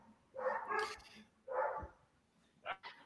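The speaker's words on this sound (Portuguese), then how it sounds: "I'm just going to shut off for a moment because of the dogs in the background." Dogs barking in the background, three separate bursts of barks spaced about a second apart, moderately loud, with a short yip at the end and no talk over them.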